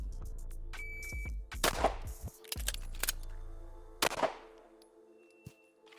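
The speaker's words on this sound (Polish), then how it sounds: "Strzał, wymiana magazynka, strzał." Sharp gunshots crack at a timed shooting drill run as shot, magazine change, shot, with several loud reports in quick succession, a brief pause with small mechanical handling noises, then a beep and faint ringing in a quiet setting.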